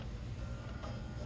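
A sewing machine runs steadily while topstitching right next to cording on a garment sample, a dense continuous mechanical whir, close and alone.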